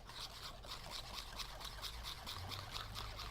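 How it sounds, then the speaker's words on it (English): Hair lightener is whisked in a bowl, making a steady, rhythmic, wet scraping at close range. The swirling strokes repeat evenly about three times per second, fairly quiet, with no voices. "and we're whisking"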